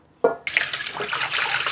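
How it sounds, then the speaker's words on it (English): Cold filtered water splashes into a large stainless steel bowl, a sudden pour that settles into a steady bright rushing stream close by. "And now the water. I use the cold water, it's filtered"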